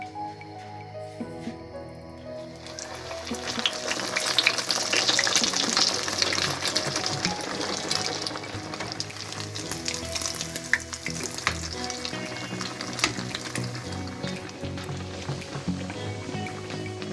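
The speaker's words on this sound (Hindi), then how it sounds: "व्यूअर्स हम इसको डीप फ्राई करने लगे हैं।" Breaded chicken patties deep-fry in hot oil with a loud, continuous crackling sizzle that swells early on and stays dense and steady throughout.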